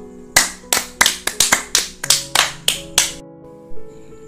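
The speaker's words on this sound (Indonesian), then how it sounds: "beri tepuk tangan lagi nak untuk teman kita William." Children clap in an elementary school classroom, with about a dozen sharp, distinct hand claps close by in a loose, uneven rhythm, followed by a brief soft sound and then quiet.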